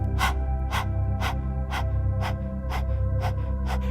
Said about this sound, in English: I want you to stick your tongue out as far as you can and begin panting like a dog